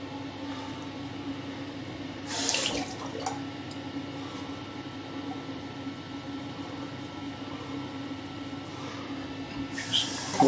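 Cold water runs steadily from a bathroom tap into a sink during a wet shave, a constant close hiss with brief louder splashes near the start and end.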